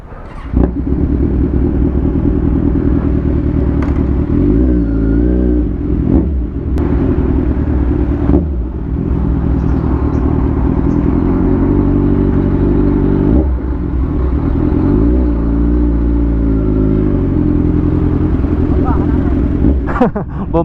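A big bike motorcycle rumbles loudly up close as it pushes into floodwater, its engine revving up and down repeatedly in deep surges over a continuous heavy roar.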